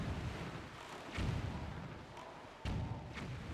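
Ship cannon firing in The Legend of Zelda: The Wind Waker HD, three muffled booming shots spaced about a second apart over a steady background hum.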